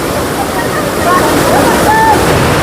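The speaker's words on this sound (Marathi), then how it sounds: "बघू शकता तुम्ही हा सुंदर धबधबा कसा आहे" A forest waterfall in the Sahyadri hills above Kerle village, Kolhapur district, roars as a steady, loud broadband rush of falling water, with faint voices and a few distant calls over the constant spray.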